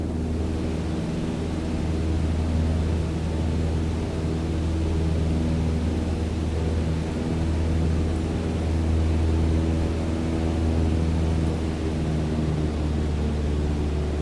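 A single-engine propeller plane at cruise throttle, about 2,300 RPM, in Microsoft Flight Simulator, a steady unbroken drone with a low hum and a faint hiss, constant in level throughout.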